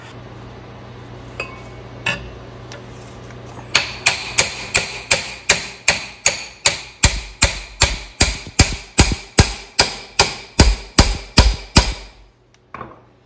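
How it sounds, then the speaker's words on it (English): An impact wrench hammers at a spinning ball joint stud on a G35 rear upper control arm, a long, loud run of rapid, evenly spaced metallic blows at close range after a few scattered clanks, with no talking. "So I'll just hit it with the impact."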